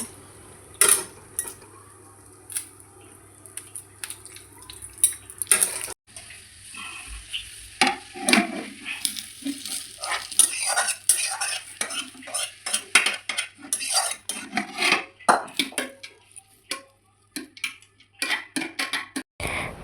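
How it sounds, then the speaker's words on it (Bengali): Fried cashews tossed and stirred in a pan with sugar and banana, metal utensil scraping and clinking in uneven bursts, with a faint background hum and no talking. "একটু নেড়ে চেড়ে এটাই কলার মধ্যে দিয়ে একটু ভালো করে মিক্স করে নেব"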